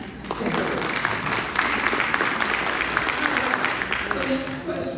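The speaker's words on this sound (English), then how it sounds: "I think they deserve an applause." An audience at a West Seattle Democratic Women's political forum claps, a dense patter of applause that fills the room, with some talking heard beneath it.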